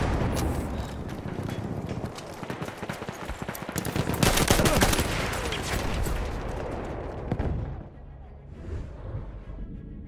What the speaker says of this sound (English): It's an enemy machine gun!